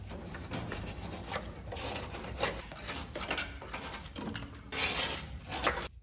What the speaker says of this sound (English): take the toe knife, if you know, you know, and I just cut it all off